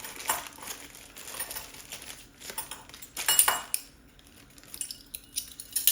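A metal teaspoon measure clinks and taps against a container while scooping garlic powder in a home kitchen, giving a few close, bright, irregular clatters.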